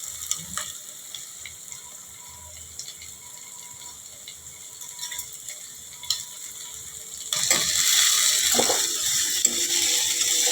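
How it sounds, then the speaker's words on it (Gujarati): Mung beans tipped into a hot cooking pan: quiet stirring and faint ticks at first, then a sudden burst of loud, close frying sizzle that stays steady, with a clatter or two near the end. "તો હવે આપણે આ મગ નાખી દઈશું"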